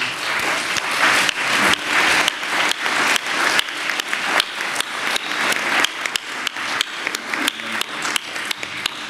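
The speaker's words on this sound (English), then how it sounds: "Maybe we give up an applause to the panel members" An audience at a kick-off event applauds panel members after a panel discussion, dense steady clapping from many hands filling the room for several seconds, loud and sustained with slight surges and no talking over it.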